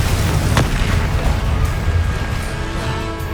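A loud, booming Confringo fire-blast spell detonates in a Harry Potter game duel, with one sharp impact early on followed by a rumbling low roar that slowly fades.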